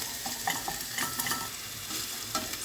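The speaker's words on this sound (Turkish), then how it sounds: "1 yemek kaşığı dolusu domates salçamızı ilave ediyoruz kavurmaya devam ediyoruz." Tomato paste frying and being stirred in a pan, a steady close sizzle broken by scraping spoon strokes and soft clatters, continuous throughout with no voices.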